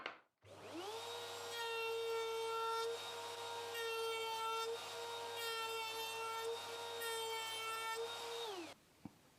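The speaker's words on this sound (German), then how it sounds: "Dann würde ich jetzt die Fräsung mit diesem Leimholzstück aus Fichte nochmal machen." A router cuts a round-over profile into a spruce glued-laminated board on a router table for a workbench, a loud steady high whine with a bright harmonic edge, starting and stopping cleanly, close and alone.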